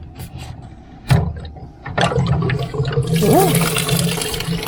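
Water rushes out as pressure is bled from a Truma AquaGo RV water heater, starting after a sharp knock and building into a steady, close gush, with a brief spoken word and a couple of whistling squeaks.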